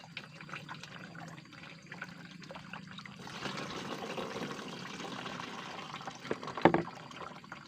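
Muddy water pours and trickles near a plot being cleared for oil palm and areca nut, a faint dribble that swells into a steadier close flow midway, with a brief sharp knock near the end.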